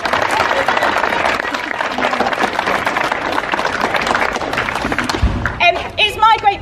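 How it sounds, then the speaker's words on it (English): Sustained applause from a crowd at a London Fire Brigade passout ceremony for new firefighters, dense and continuous clapping that thins and breaks up near the end. "Can we give another round of applause?"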